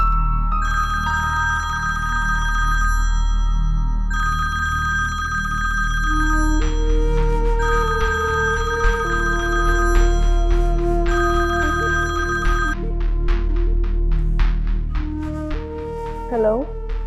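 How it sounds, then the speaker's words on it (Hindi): A telephone rings repeatedly with bright electronic tones in a patterned melody, under occasional voices and background music. "किसका फोन है?"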